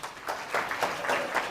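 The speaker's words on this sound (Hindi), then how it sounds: "जोरदार ताली बजाओ" An audience applauds at a Hindi-language talk on the nature of Jesus Christ, a steady wash of clapping with a few louder swells across the short stretch.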